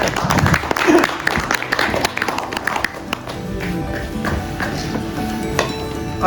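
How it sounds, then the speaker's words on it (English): A magic show audience claps for a volunteer walking up to join the magician on stage: a dense patter of hand claps across the whole stretch, mixed with room noise and scattered taps. "Give Chris a big round of applause as he comes up"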